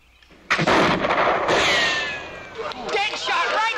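A rifle fires at a target during a frontier shooting contest, one sharp loud crack followed by a long ringing echo, with voices and crowd noise underneath.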